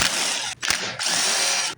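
Loud power tool whirring as it backs bolts off a Toro snow blower during carburetor removal, two sustained bursts separated by a brief pause, close and alone with no talk.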